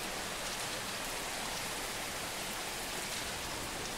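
A night downpour in a deer-hunting video game rushes steadily outdoors, a broad, constant wash of heavy rain with no pauses, moderately soft and uniform.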